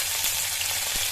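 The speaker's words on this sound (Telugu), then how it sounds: "ఇందులోనే చిన్నులపాయ వేసుకోవాలి," Onions dropped into hot oil for tempering, a close, steady sizzle and crackle of frying for a brief moment.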